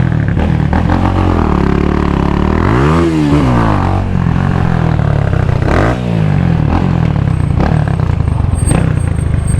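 A 250cc six-speed motorcycle revs hard close by, its engine note climbing and falling in repeated sweeps over a steady loud idle, with no talk.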